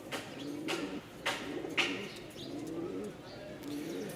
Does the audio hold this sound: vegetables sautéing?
no